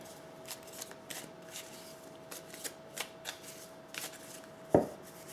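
Tarot cards are handled and shuffled in a quiet room, with soft riffling and light flicks at an irregular rhythm and one sharper slap near the end, close and without talk.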